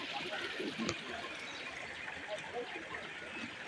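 Water rushing steadily at Karanthamalai Falls, a natural waterfall used for bathing, forms a constant broadband hiss throughout. Faint background voices sit under the flow.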